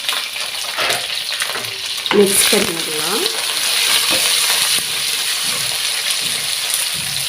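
Curry leaves and onion sizzle and crackle steadily in hot oil in a pan, with a spoon scraping and stirring through them, and a brief voice speaks softly near the middle.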